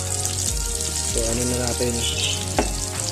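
Mussels sautéing in butter and oil in a pan give a steady broad sizzle, with a few clatters of stirring, while a person talks over it.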